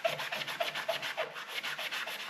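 Rough 80-grit sandpaper is rubbed back and forth over a metal planer base, giving a rhythmic scratchy hiss of about eight quick, evenly paced strokes, close and fairly loud with no talk.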